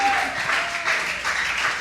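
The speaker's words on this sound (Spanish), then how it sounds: "Dale fuerte ese aplauso al Señor." A church congregation applauding, steady dense clapping that swells and fades, with a voice faintly audible beneath.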